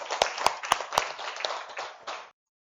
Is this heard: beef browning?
no